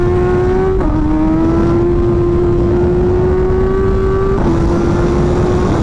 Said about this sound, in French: le moteur, comment il est pointu, comment ça marche, comment ça pousse, comment la puissance est délivrée dans les tours, c'est une fusée